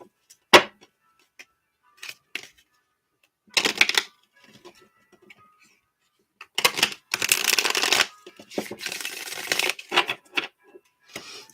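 A labyrinth tarot deck is shuffled in bursts of crisp riffling and soft card taps, with quiet pauses between, close and fairly faint.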